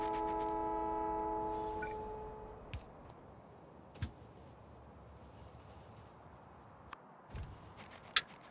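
Train in the Factorio game with the Krastorio mod, opening with a sustained horn-like tonal chord that fades after about two seconds, then a low rumbling bed with a few sharp clicks and taps.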